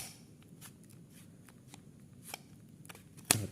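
An SSD slides into the drive bay of an Asus A46CA laptop: soft, faint scraping and rubbing for several seconds, then one sharp, close click near the end, with no talking.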